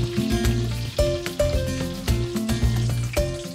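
Chili-filled lumpia deep fry in hot oil with a loud, continuous close sizzle full of crackles and small pops that flare and settle in waves, with no talking.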